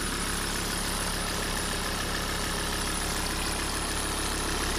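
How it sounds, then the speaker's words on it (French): A Lancia Thesis 2.4 diesel engine runs at a steady idle, a continuous close rumbling drone with no talk over it. "Bon, c'est un gros moteur."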